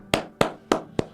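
Four sharp hand claps at an even, moderate pace, close and fairly loud with nothing else around them, offered as applause during talk about a cricket player's role in a record men's T20 run chase.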